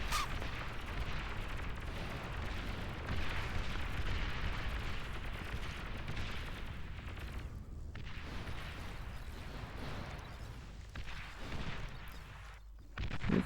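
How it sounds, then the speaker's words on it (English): Artillery units in the strategy game Beyond All Reason fire a steady barrage of dense booms and rumbling blasts at hilltop structures, loud and continuous throughout with no talk. "Looks like we got artillery built up here. We got an agitator firing away at the hilltop structures."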